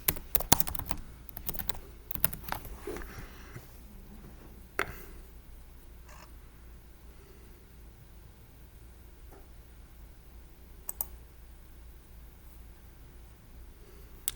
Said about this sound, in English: I'm just gonna start typing stuff now